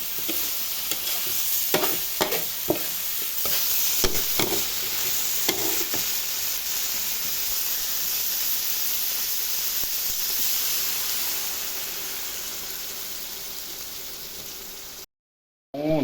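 Steady loud sizzling hiss of fish sauce poured onto the edge of a hot pan, with a few clinks and scrapes of stirring early on, then a brief cut to silence.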